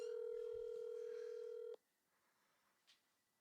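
A phone call is placed: a steady loud dial tone with a few short keypad tones over it cuts off abruptly, then near-silence follows with one faint brief ring-like tone near the end.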